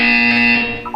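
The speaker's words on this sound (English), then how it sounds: "When you hear the buzzer, look up at the ceiling." A loud, steady electronic buzzer drones in the Portal 2 video game, holding one harsh tone for most of a second before fading into brief tonal game sounds.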